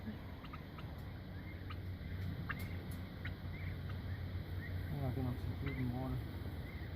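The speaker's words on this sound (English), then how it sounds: "Okay, the chicks are in, the chickens with the turkeys." Chicks, chickens and turkeys move about in a chicken tractor on grass. Faint clucks give way to a turkey's gobble near the end, over a constant low background hum.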